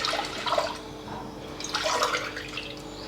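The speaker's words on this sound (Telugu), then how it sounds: "ఇదిగోండి 3 గ్లాసులు నీళ్ళు పోస్తున్నా" Three glasses of water poured into a pressure cooker over washed urad dal, giving a close, continuous splashing gush that swells and eases.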